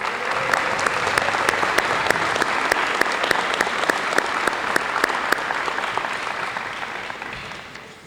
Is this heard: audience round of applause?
yes